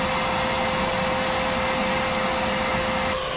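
A Bauer 14-gallon 6 hp shop vacuum runs at a loud, steady roar as it sucks up pine needles, with a dense continuous whine and no talking.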